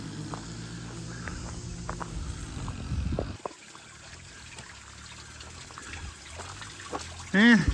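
Spring water trickles steadily at a low level outdoors, a soft continuous dribble that carries on under faint background noise.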